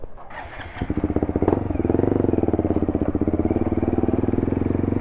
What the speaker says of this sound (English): so I'm gonna do some wheelies.